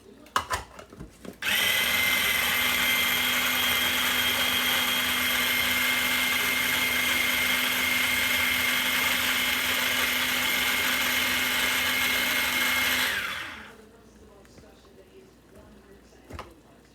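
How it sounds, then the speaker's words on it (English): A small kitchen chopper whirs loudly as it blends tomatoes, a steady high-pitched motor drone lasting about twelve seconds and then cutting off, with light clatter before and after. "and blend those up, guys."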